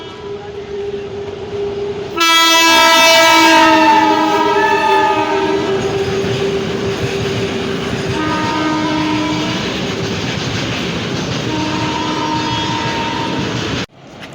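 Satyagraha Express passenger train departing from Lakhimpur toward Delhi, sounding a loud, sustained multi-tone horn in several long blasts over the steady rumble and clatter of the moving train, with no talk.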